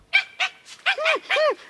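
A dog barks furiously as a sound effect in an audio drama: about six sharp, close barks and yelps in quick, uneven succession, loud and alone with no voices.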